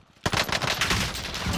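Rapid automatic gunfire from a gun in a first-person shooter video game, a sudden loud burst starting after a brief quiet moment and continuing as dense, close, sustained fire with no talking.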